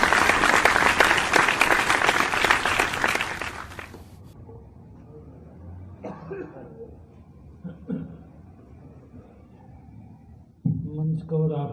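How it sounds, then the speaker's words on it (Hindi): A loud burst of audience applause welcomes poet Jagdish Solanki at a Hindi poetry gathering in Indore. Dense clapping fills the first four seconds, then gives way to quiet room sound and a few scattered voices. "जगदीश भाई आपके बीच में जोरदार तालियां बजाते"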